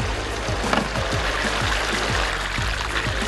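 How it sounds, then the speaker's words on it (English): Water from a hose rinsing gold out of a sluice mat on a Gold Cube concentrator into a tub, a steady loud splashing rush with repeated low sloshing pulses throughout. "We're going to take the hose off and use it as a sprayer just to spray all the gold out of the mat and into a tub."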